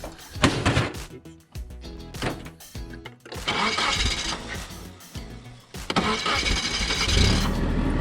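Cranking bursts from a car engine, primed through a boat fuel primer bulb on a JDM Spitfire build, end when it catches and roars into a loud, steady run close by.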